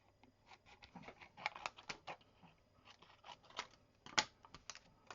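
Scissors snip through a sheet of acetate window film, quiet close crisp cuts and crinkles in an irregular run, with one sharper snap near the end.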